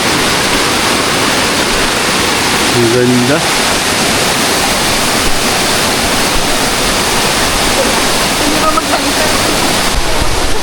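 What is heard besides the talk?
waterfall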